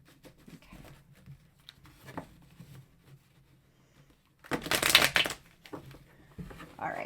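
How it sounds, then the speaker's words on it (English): Tarot cards are shuffled in a sharp, crisp riffle burst after quieter handling sounds, close up, with a soft voice briefly at the end. "I just want to give this a really good shuffle here."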